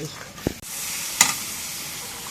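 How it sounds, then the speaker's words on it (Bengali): Garlic paste and cumin paste masala frying in a pan gives a steady, close sizzling hiss throughout, with a couple of brief knocks. "রসুন বাটা জিরে বাটা দিলাম মশলাটা একটু কষায়"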